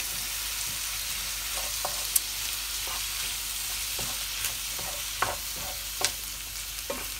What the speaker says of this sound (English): small to medium tomatoes that are chopped up, and I'll just give them a little bit of cooking time